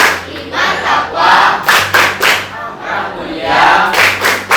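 Children standing in a classroom clap a rhythmic Pancasila profile chant, with bursts of group clapping and shouted chanting coming in uneven waves, loud and close.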